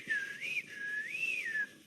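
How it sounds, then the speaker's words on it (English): A person whistles a short, wavering tune of about two seconds, sliding up and down in pitch, clear and fairly close with no talking. "Everyone here good at whistling?"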